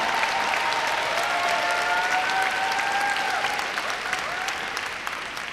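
Graduation audience applauding the class of 2025 at the Scholars' Academy ceremony: dense, sustained clapping from a large crowd, steady throughout and tapering slightly near the end, with faint whistles or cheers riding over it.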